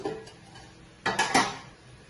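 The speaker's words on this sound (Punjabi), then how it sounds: "ਤੇ ਇਹਦਾ ਆਪਾਂ ਕੜਾਹੀ ਧਰਦੇ ਆ" A kadai, or wok, is set on a stove while making palak paneer, giving a quick cluster of two or three close metallic clanks after a quiet kitchen moment.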